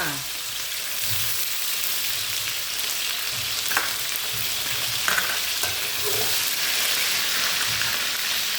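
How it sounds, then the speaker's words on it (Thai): Pork frying in hot oil in a pan, a steady close sizzle and crackle with a few soft stirring knocks, running continuously without talk. "น้ำมันร้อนแล้วค่ะ ใส่หมูลงไปเลยค่ะ"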